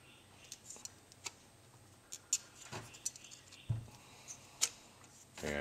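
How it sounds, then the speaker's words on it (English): Heavy metal shears cutting 50-thou-thick softened copper sheet, a series of sharp, close snips and clicks at irregular intervals over a quiet background. "cutting out the square with a pair of metal shears, heavy metal shears"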